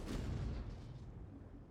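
Rapid tank cannon fire in the K-91-PT video game, a dense rumbling barrage of booms rolling on continuously without pause, loud and close, with no voices.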